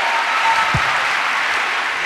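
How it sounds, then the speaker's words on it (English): A church congregation claps together in sustained, dense applause that fills the room for the whole stretch, loud and close, with no individual voice standing out. "Give Jesus a wonderful clap"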